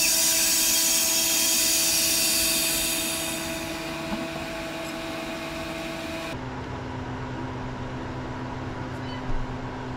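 A freeze dryer running an extra dry cycle on strawberries gives off a steady mechanical hum with tonal whine that shifts and partly quiets partway through, continuous and close.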